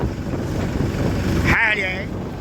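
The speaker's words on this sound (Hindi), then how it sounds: "बहुत तेज हवा चल रही है ये" Strong wind roars and buffets the microphone outdoors in Pune during heavy rain, a loud steady rush throughout, with a short voice breaking in near the end.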